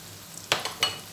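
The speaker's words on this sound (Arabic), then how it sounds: "العيش الشامي بيتحمص بسرعه، يتحمص معايا اهو" Pita bread frying in oil for Egyptian koshari: low background sizzle broken by two sharp bursts of spitting, crackling hiss as pieces are stirred or added, close and brief, no talk.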